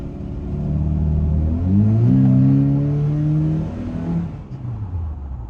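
A Toyota Tacoma pickup truck's 2.7L 3RZ engine, with new ignition coils, drones and rises as it accelerates, revving up to a peak before easing off, close and loud with no voices.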